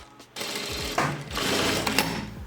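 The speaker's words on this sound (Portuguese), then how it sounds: "Arremate inicial duplo. Arremate final duplo." A Jack A4E electronic industrial straight-stitch sewing machine runs short bursts of rapid stitching with a double backtack at the start and end of the seam, its motor whirring loudly and alone.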